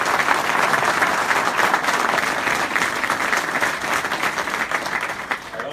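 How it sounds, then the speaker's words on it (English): An audience at a State of the City address in Fall River applauds in dense, sustained clapping that stays loud and even throughout. "Please join me in applauding the school committee and our city council members."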